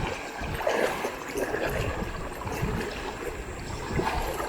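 Steady rushing and trickling of clear river water, about knee to thigh deep, as people wade across on the way to a mountain waterfall, with continuous splashing close by and no talk.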